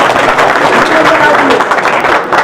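Crowd applause at a political felicitation ceremony for a district Congress president, a dense, continuous patter of clapping with a voice talking over it.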